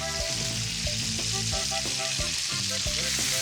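Diced potatoes hit a hot discada, the plow-disc grill for a Chihuahua-style mixed-meat dish, and a loud, steady frying sizzle carries on throughout with no one speaking.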